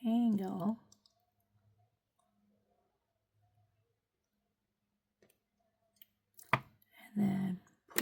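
Cutters snip through beading wire with a sharp, close click, set between short stretches of talking and quiet handling noise.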